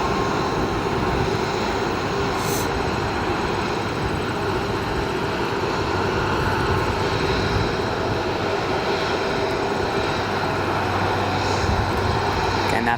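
Scandinavian Airlines airliner arriving at O'Hare Airport at sunset, its engines giving a loud, steady roar that holds constant for the whole stretch with no voices over it.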